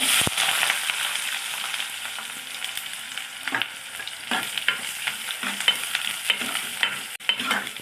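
Onions fry over fennel seeds in a pan for a Kerala-style chickpea curry: a strong, near sizzle with frequent scraping strokes of a spoon stirring through them.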